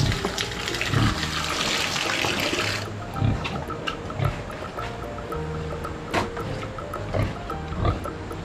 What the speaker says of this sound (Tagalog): lagyan natin ng tubig niya.